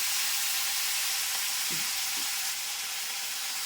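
Cashews, cumin seeds and a couple of garlic cloves temper in hot oil, giving a steady, close, loud sizzle and hiss with a couple of faint knocks partway through.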